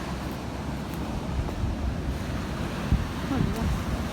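Sea waves wash along the shore in Italy, a steady rushing surf with heavy wind buffeting the microphone throughout, close and fairly loud.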